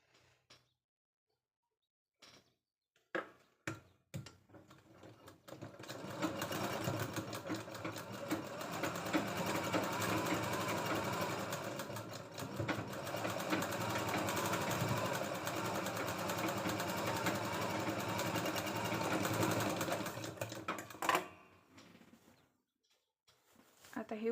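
A sewing machine stitches a katori blouse, starting after a few short taps and clicks, then running in one continuous fast whirring burst for about fifteen seconds before stopping, with a few handling knocks at the end.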